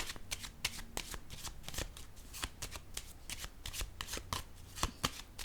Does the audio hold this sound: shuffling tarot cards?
yes